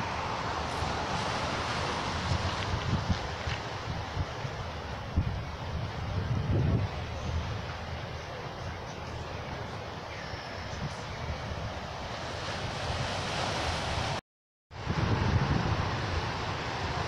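Steady broadband wash of surf and wind at Shark's Cove on Oahu's North Shore, a continuous rushing roar with buffeting wind noise on the microphone and one brief dropout near the end.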